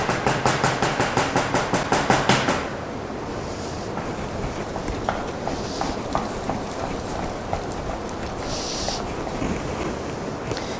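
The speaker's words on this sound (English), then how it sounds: "I will use my spatula here to really get that egg. And I just want that egg really beaten in there." Spatula beating egg into a bowl of potatoes, starting with a quick run of loud, regular slaps and thuds for about two seconds, then settling into softer, steady scraping and mashing with occasional brighter clicks.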